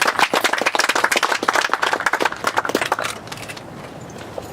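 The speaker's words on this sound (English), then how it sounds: "give Coach Stroud a round of applause" Audience clapping at a mural unveiling at a historic community center in Conyers, Georgia, a lively burst of applause from a small crowd that fades out after about three seconds.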